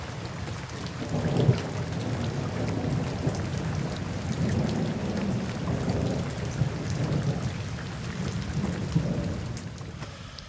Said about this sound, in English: It's raining, so I'm wet